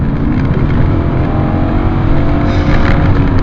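A 1997 BMW E39 535i with a V8 accelerates hard on a motorway after a manual downshift, its engine droning loudly and steadily with road roar from inside the car.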